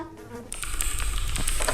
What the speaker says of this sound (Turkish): Sinek var ya oyunun ortasında.